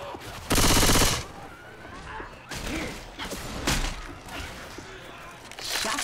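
Frag-round gunfire in the zombie shooter Left 4 Dead, with a loud opening burst followed by scattered heavy shots and thuds amid background game noise.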